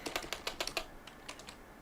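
Someone types on a computer keyboard during a livestream, a quick burst of crisp, close key clicks that slows into a few scattered taps, with no talking.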